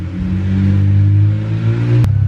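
A BMW 335 car engine revs and holds a strong, steady drone for about two seconds before cutting off abruptly with a click.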